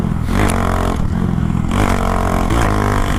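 A Honda Grom motorcycle fitted with a 17T sprocket accelerating hard through the gears, loud and close. The engine revs climb and break at each shift, with wind and road rattle mixed in.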